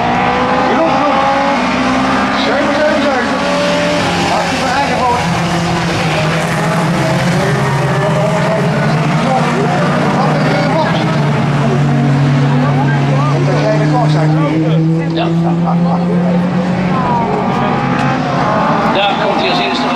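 Sprint 1300 race cars start at Posterholt Raceway, a loud, sustained massed engine roar with revs rising and falling as the pack pulls away, while a commentator talks over it.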